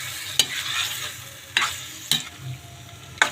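Squid frying in a pan with pepper, a soft steady sizzle broken by four quick scraping stirs of a utensil against the pan, close and alone without talk.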